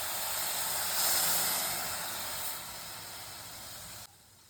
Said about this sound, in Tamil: வதக்கிட்டு 2 நிமிஷம் இந்த பாலை ஊற்றுறோம்